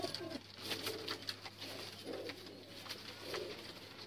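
Pigeons coo in a steady, repeated low rhythm, close by, with a few brighter chirps and rustles mixed in and faint background hum throughout; a cage or loft of hobby pigeons.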